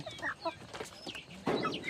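A laying hen clucks in a few short, close bursts, ending in a louder, rougher cackle.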